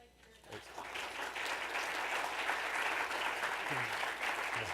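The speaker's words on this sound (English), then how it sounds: "let's give them a round of applause" An audience applauds at an Earth Day 2017 event about the Gatlinburg wildfires, clapping that swells quickly after a brief start and stays as a dense, sustained wash of many hands, with a voice faintly under it.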